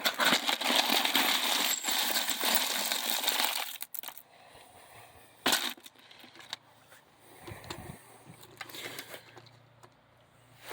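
A petrified wood polishing tumbler barrel being emptied, opening with a loud, steady rushing gush of milky slurry and stones for about four seconds, then scattered clinks, knocks and rattles of handling.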